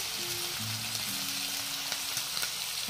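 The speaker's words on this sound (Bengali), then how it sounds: "একদম গরম তেলে একদম শুটকিটা ভাজতে হইব" Dried fish frying in hot oil, a dense, steady crackling sizzle heard close, with a few faint tonal hums beneath and no talk.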